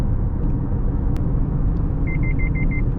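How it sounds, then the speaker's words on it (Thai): Five quick, evenly spaced electronic beeps of a Mazda CX-8 SP Exclusive's lane departure warning chime near the end, over the steady low road and engine rumble inside the moving car. "อ่านี่แจ้งเตือนรถออกนอกเลนนะครับ"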